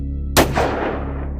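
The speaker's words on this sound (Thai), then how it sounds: "เสียงแผดสนั่นของคานเวียง357 แมกนัมก็ได้ระเบิดขึ้น" A single loud .357 Magnum revolver gunshot, close and sharp, followed by a rolling echo that decays over about a second.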